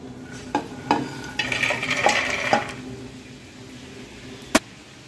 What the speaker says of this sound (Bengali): এই যে মাখিনিটা বাইচা নিছি, এখন নামাই নেব